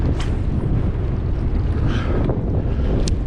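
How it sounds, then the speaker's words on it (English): Strong wind gusts over open water on a cold day at rising tide, a steady loud rumbling buffet across the microphone with no break, with faint water sounds beneath. "I thought it said at least 13 to 14 mile an hour wind gusts"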